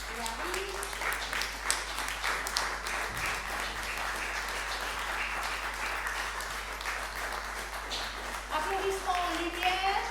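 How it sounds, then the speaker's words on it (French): A concert hall audience applauds the illustrator of a Peter and the Wolf performance, steady, moderately distant clapping that holds throughout, with voices speaking over it at the start and end. "Et nous l'applaudissons fort"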